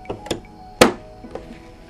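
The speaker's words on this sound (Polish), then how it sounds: "Zamykam pokrywę tuszów." The ink cartridge cover of a printer is closed, a few light plastic clicks and one sharper, louder snap near the middle, close and short with quiet room tone between.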